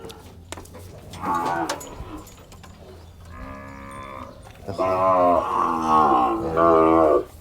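Cattle at a livestock market in Wang Prachop, Tak, give several loud, drawn-out moos, one short call, then longer bellowing moos close by, with low background murmur between them.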